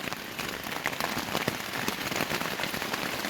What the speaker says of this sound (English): It's torrential rains outside